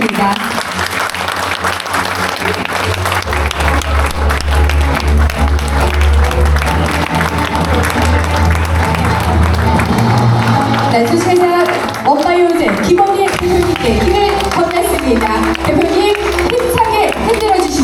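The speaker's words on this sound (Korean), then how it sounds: "큰 박수 부탁드립니다" Loud, sustained audience applause fills a 2026 launch ceremony for a cycling team held at company headquarters, with voices and a musical performance rising over the clapping in the later part.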